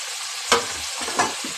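Tomato and spice paste frying in a pan gives a steady close sizzle, with two sharp bursts as the mixture is stirred or pressed.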